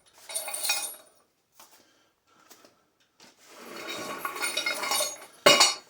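A metal wrench clinks and scrapes during assembly of a HULKFIT steel weight rack. Short bursts of rattling are separated by quiet gaps, and a sharp clank comes at the end.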